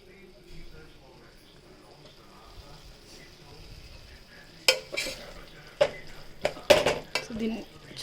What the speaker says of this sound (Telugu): సో మంచిగా మనము కలుపుకోవాలి దీన్ని, మసాలా మొత్తం దానికి అంటుకునేటట్టు.